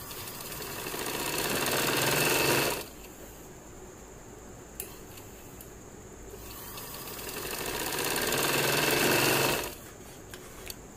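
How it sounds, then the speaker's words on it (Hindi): A sewing machine stitches a lace slit border onto shirt fabric in two steady whirring runs of a few seconds each, with a quiet pause and small clicks between them. "ऐसे ही हम मुकम्मल चारों साइडों पे सिलाई लगा लेंगे।"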